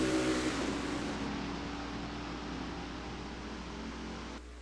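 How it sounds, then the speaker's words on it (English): Race car engines winding up at the green flag of a Daytona race in a racing video game, a steady droning whir at modest volume that cuts off near the end. "You could hear the engines"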